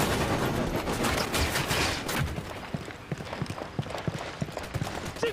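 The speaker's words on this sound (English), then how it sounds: "I'm opening fire on these shitheads." Rapid gunfire fills a firefight in Ghost Recon during Operation Kingslayer. Dense shooting comes first, then separate sharp shots crack in quick, uneven bursts.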